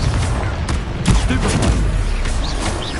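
Spell blasts burst out in Hogwarts Legacy after a Confringo cast, loud fiery booms and crackling impacts in quick succession, dense and close, with brief shouted voices mixed in.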